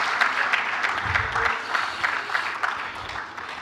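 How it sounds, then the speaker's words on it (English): An audience at a lecture and fellows induction ceremony applauds the President with steady, dense clapping throughout, moderately loud and continuous. "Please, the President deserves a resounding round of applause."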